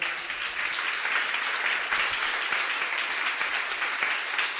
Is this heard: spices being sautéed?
no